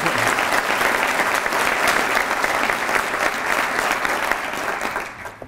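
Audience applause at an economic development summer conference, a dense sustained burst of clapping from a large crowd that fades slightly toward the end.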